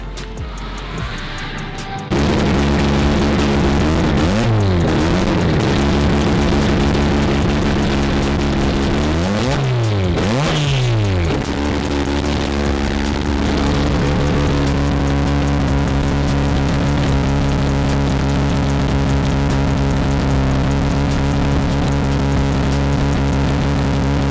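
A turbocharged Mazda RX7 running far too rich fires up after a short quiet lead-in, then settles into a loud, steady idle. The engine note swells twice with brief revs before holding a continuous drone.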